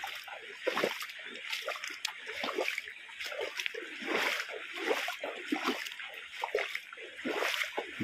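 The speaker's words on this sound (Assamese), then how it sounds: "এই ৰাস্তাৰ ওপৰেদি পানী এনেকৈ বৈ আছে" Floodwater from the swollen Buri Dihing river pours across a village road, making a steady, soft splashing and trickling rush with small surges throughout, heard from nearby but fairly quiet.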